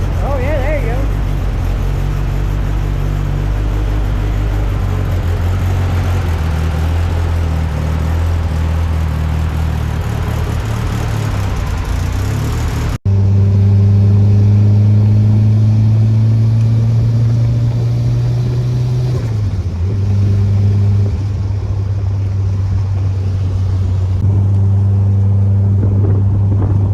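Engine of an all-wheel-drive Spyder Talon idling steadily after a cam sensor replacement, a low continuous rumble that drops and settles partway through, with people talking over it.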